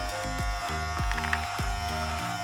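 A Philips Multigroom Series 7000 MG7720 trimmer runs with a steady electric buzz. The motor hum holds the whole time, with a few brief dips in pitch where it seems to meet hair or skin. No one talks.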